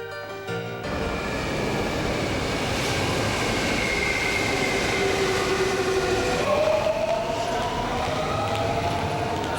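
A subway train roars through a noisy underground station, a loud continuous rumble with rising and falling squeals of wheels and brakes, heard close.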